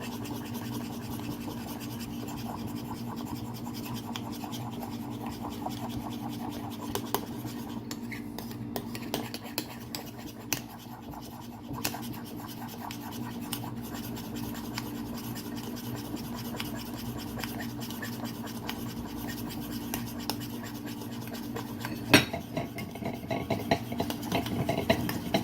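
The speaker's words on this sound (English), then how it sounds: "Feels like it's easier to stir when this bowl's just vertical." A spoon or whisk stirs whipped cream in a bowl, making a steady, continuous scraping and swishing over a low hum, with no talking.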